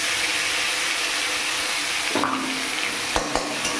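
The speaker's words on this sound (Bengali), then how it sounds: "পেঁয়াজ রসুন বাটা দিয়ে একটু কষিয়ে নেব" Onion and garlic paste fries in a wok (kadai) with a steady close sizzle, then stirring scrapes and a couple of soft clunks against the pan.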